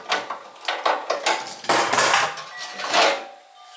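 Rusted inner skirt panel being worked free from the wheel arch of a Holden HK/HT/HG: a rapid series of sharp metallic clanks and scraping knocks at close range, irregular in rhythm, with no talking.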